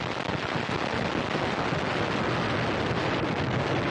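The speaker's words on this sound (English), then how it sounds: "they love the ripping sound of the rocket as it ascends" An Antares launch vehicle roars during ascent after liftoff, a dense, continuous ripping rumble that stays loud and steady from start to finish with no voices.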